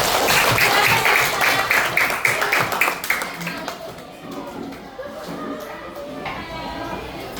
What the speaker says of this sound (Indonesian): Tepuk tangan dulu untuk ketiga manusia adik kita.